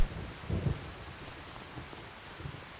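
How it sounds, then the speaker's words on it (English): Steady rain on a farm in Spakovo, Poland during a March thunderstorm, with soft low rumbles of thunder rolling beneath the continuous patter, one stronger swell early on. "it's raining. It's actually a thunderstorm"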